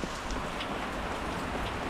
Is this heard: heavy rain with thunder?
yes